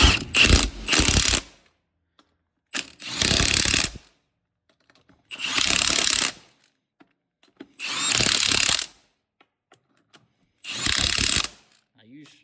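An impact wrench tightens the wheel lug nuts of an Oldsmobile Alero or Pontiac Grand Am in a star pattern, five loud ratcheting bursts of about a second each separated by short silences.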